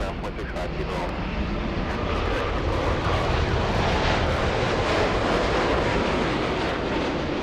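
American Airlines jet on the runway at LAX, a loud, continuous engine roar mixed with wind buffeting the microphone, steady throughout with talking blended in.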